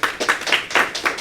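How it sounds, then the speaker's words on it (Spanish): A church congregation claims together in rhythmic bursts, about five loud, close claps in quick succession with no speech. "Denle un aplauso al Señor."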